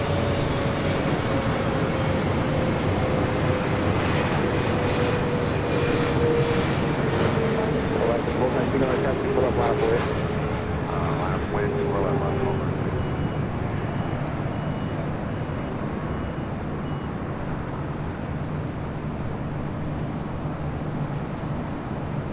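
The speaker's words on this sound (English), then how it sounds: "And that was Singapore Airlines Flight 12 coming in from Tokyo Narita" A Singapore Airlines Boeing 777-300ER arriving at LAX from Tokyo Narita gives a broad, steady jet roar with a slowly falling whine, loud and constant throughout, with a voice speaking over it.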